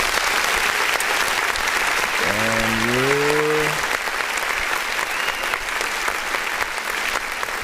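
Hand clapping for an independent artist music review show runs dense and steady from start to finish, with a brief sung or voiced tone rising over it in the middle.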